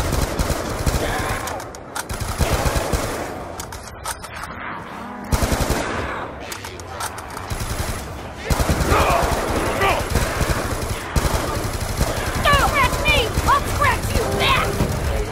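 Rapid automatic gunfire from Black Ops 2 Zombies, in bursts of heavy shots that run through most of the stretch, loud and close, with excited players shouting over it.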